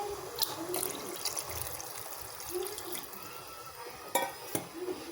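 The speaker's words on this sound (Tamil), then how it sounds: "இப்போ இன்னும் கொஞ்சம் தண்ணி ஊற்றிக்கலாம்." Water poured into a pot of mushroom salna as it cooks, a steady soft trickling and splashing with a few sharper clinks, close and fairly quiet.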